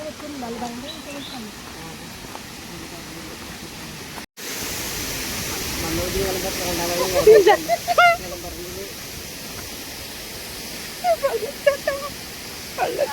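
Constant broadband rushing of a waterfall, a steady hiss with voices talking intermittently over it.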